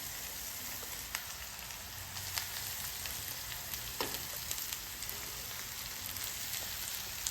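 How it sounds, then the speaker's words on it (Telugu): Steady crackling sizzle of onions and potatoes frying in hot oil, with a few sharper pops and spatters, fairly close and continuous without any talk. "మన పోపు వేగుతుంది కదా"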